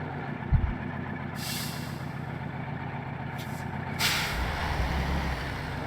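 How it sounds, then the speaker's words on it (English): Truck diesel engine in the MudRunner off-road driving game, a steady low rumble running throughout with brief hissing bursts like air brakes and a louder surge near the end. "by the sound they would be diesel engines. Truck should have a diesel engine in it."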